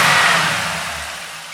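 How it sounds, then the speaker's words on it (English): Intake roar from an LS-swapped 1966 Chevy El Camino, a loud, close engine rush that is strongest at the start and slowly fades over a second and a half, with no talking. "You guys can listen to the intake noise"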